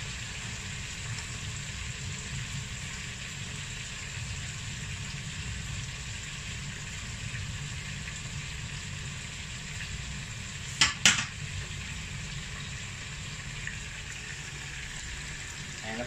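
Chicken wings fry in hot oil with a steady, even sizzle that runs without a break, and a couple of sharp clatters cut in briefly near the end.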